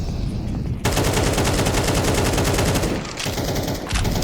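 Rapid automatic gunfire in Counter-Strike on the Inferno map, fired through a wall: dense, loud bursts of rattling shots, nearly continuous, with a brief dip before the firing resumes.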